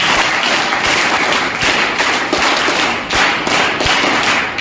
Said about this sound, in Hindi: एक बार पुनः आप सभी हाथ ऊपर ताली बजाओ।